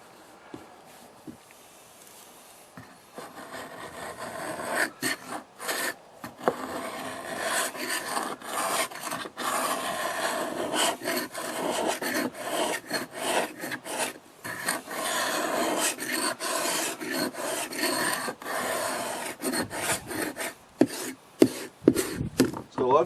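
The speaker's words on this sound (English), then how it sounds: "So we'll sand down these edges and then we're ready to refinish." Hand sanding rasps rapidly along painted wood edges being prepared for refinishing, in dense back-and-forth scrubbing strokes that run almost continuously, close and moderately loud, with a few brief pauses and no talk.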